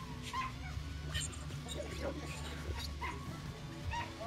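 A dog whimpers and yips repeatedly in short, high, whiny bursts with occasional barks, fairly faint in an indoor room under people talking.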